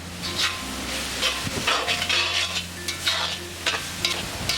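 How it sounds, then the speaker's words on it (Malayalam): Chettinad chicken sautés in a pan over a high flame, a steady close sizzle with repeated scraping stirs of a spoon against the pan, no voices. "ഹൈ ഫ്ലെയിമിലിട്ട് തന്നെ ഇത് വഴറ്റിയെടുക്കണം."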